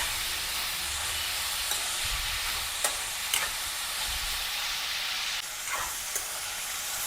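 Cabbage stir-fries over a full gas flame for noodles, a steady hiss and sizzle broken by occasional scrapes and clicks of a stirring spoon against the pan.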